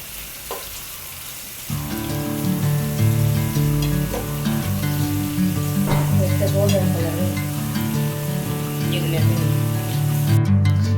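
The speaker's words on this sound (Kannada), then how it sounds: "ಪಂಡ ಈ ನೀರುಳ್ಳಿ ಎಡ್ಡೆ ಮಸ್ತ್ ಫ್ರೈ ಆವೊಡು ಗೋಲ್ಡನ್ ಕಲರ್ಗ್ ಬರೋಡು" Sliced onions frying in hot oil for prawn biryani, a loud continuous sizzle that starts abruptly after a brief quieter moment, with occasional scraping stirs and bubbling pops, no voice over it.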